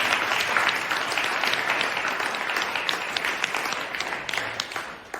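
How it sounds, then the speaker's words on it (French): A church congregation at a May Day mass for the feast of St Joseph claps together in sustained, dense applause that thins toward the end into a few scattered claps. "on va encore applaudir pendant 30 secondes pour tout ce que j'ai oublié"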